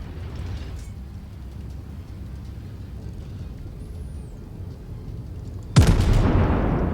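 Heavy naval gunfire from a New Mexico battleship striking the Bayern in World of Warships, a low rumbling background broken late by one sharp, loud impact burst that rolls into a sustained roar.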